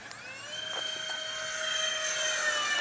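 A Banana Hobby RC A-10 model jet with 64mm ducted fans on a 3S 3600 mAh battery flies past, giving a high, steady whine that swells louder and closer, heard alone.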